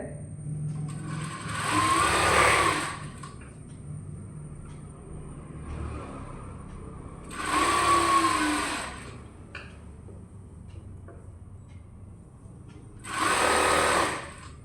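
A sewing machine stitches the crotch seam of a pair of kids' pants in three separate bursts of rapid, close whirring, with quiet pauses between runs.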